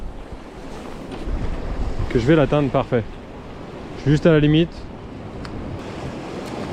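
Wind buffets the microphone and waves surge at sea during a lure-fishing session, a steady roar with someone speaking briefly over it.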